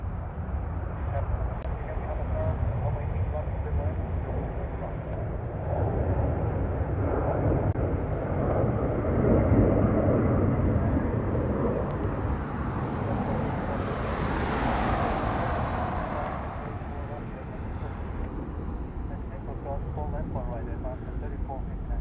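A heavily loaded MD-11 jet climbs out slowly at night from Honolulu, its low engine rumble swelling and fading over about twenty seconds, with a voice speaking over it.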